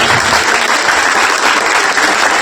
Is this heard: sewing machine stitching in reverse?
no